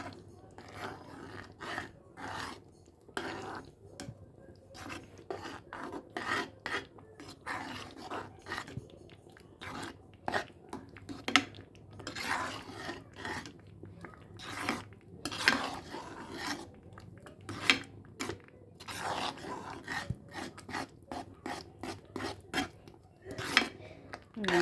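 Dal chutney stirred continuously in a pan over slow-medium heat, a long run of scraping, rasping strokes of a spoon against the pan with uneven rhythm, close and fairly quiet.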